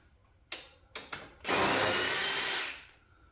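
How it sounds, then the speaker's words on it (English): Power drill backing a bolt out of a mower engine during an engine swap: a few short trigger bursts, then a sustained whining run for about a second, close and loud. "take that bolt back out."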